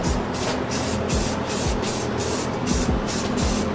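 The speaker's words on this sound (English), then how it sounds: "You can spray some right there if you want in your car." A Harbor Freight paint gun sprays primer into a car's engine bay with a loud, continuous hissing spray, broken by short rhythmic pauses as the trigger pulses, close to the listener.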